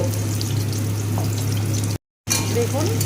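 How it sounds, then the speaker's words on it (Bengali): Chopped papaya and potato sizzling in hot oil in a wok, a steady dense crackle close up that breaks off briefly before resuming. "কড়াতে তেল দিয়ে দিয়েছি এবার এর মধ্যে দিয়ে দেব কেটে রাখা পেঁপে আর আলু একসাথে দিয়ে ভালো করে ভেজে নেব"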